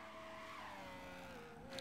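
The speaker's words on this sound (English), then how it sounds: "And Sideways is drifting that final turn" A GT500 race car in Gran Turismo 5 drifts sideways through the final turn of the Special Stage Route 5 circuit, its tires squealing in a steady, sustained tone over a constant engine roar, close and loud throughout.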